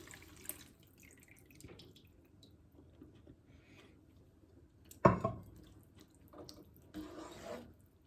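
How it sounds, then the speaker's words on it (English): Chickpea cooking water, left from boiling the chickpeas for chole, poured into a cooking pot, heard as a short, splashy liquid burst that stands out from a quiet kitchen background, with faint clinks of utensils. "we are going to add this water, the chickpea water which we boiled the chickpea in"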